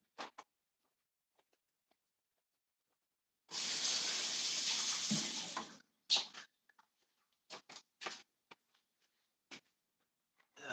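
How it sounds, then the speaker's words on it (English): Hands washed under a running kitchen tap: a steady gush of water flows for a couple of seconds, followed by scattered drips, splashes and small handling knocks in a quiet room. "Wash my hand."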